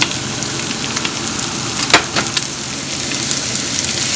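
Garlic and onion fry in a hot pan in a home kitchen, a continuous loud sizzle with a brief stir partway through.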